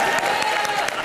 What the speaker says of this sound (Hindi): वो तालियां शोर इसलिए बजा रहे हैं कि ठीक चल रहा था